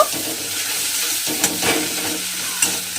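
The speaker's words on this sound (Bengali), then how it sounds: "সেই রসুনটা আমি এর মধ্যে দিয়ে দেব দিয়ে আমি একটু রসুনটা দিয়ে ভাজা ভাজা করে নেব" Crushed garlic cloves fry in a pan for a fish curry, giving a loud, steady sizzle and hiss. Occasional scraping stirs and taps of the spatula sound throughout.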